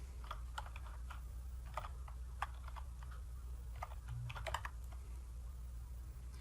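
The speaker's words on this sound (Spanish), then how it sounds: "Y aquí empezamos la pelea con los caracteres por el teclado" Keystrokes on a computer keyboard while working in a terminal, sparse, uneven clusters of light clicks over a steady low hum, fairly faint and close.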